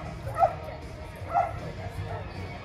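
At a dog jumping competition, a dog barks twice in sharp, mid-distance yaps about a second apart. The barks rise over a constant crowd murmur and commentary.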